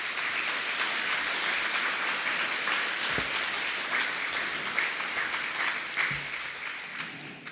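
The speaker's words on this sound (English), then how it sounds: "Please give them a round of applause." Banquet audience at a Chamber of Commerce awards dinner applauding: sustained dense clapping from a large crowd that holds steady for several seconds, with a few louder individual claps standing out near the end.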